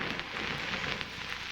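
Rain falls as a steady, even hiss with a few soft patters, a brief and moderately quiet wash of sound with no voices.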